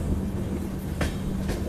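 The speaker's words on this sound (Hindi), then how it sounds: "अपनी ट्रेन बढ़ रही है बरक वैली की तरफ" A passenger train rolls along toward the Barak Valley with a continuous low rumble of wheels and carriage noise, broken by a couple of brief clicking rail knocks, heard from on board.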